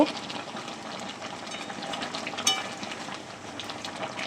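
Prawn malai curry with garam masala gets a quick stir in a pan, giving a soft, quiet bubbling and sloshing with a brief clatter midway.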